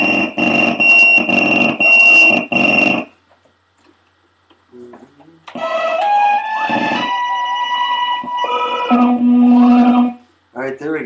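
An Electric Eel synthesizer running a different software image, loud, pulsing tonal bursts with ringing overtones, a short near-silent gap, then shifting, wavering synth notes and sustained buzzy tones.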